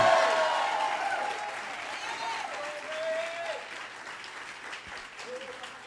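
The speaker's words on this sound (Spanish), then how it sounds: "with a clap and a shout unto the Lord." A church congregation claps and shouts in a loud wash of applause that gradually fades, while a voice carries on over it.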